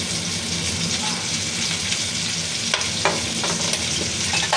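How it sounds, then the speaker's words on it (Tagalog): Pork sizzles steadily in hot cooking oil in a pan, a close, continuous frying hiss with a few small pops and stirring knocks. "Ipiprito-prito lang po natin yan para mas malasa."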